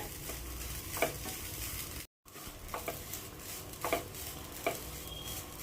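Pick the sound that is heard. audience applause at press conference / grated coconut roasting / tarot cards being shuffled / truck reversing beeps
grated coconut roasting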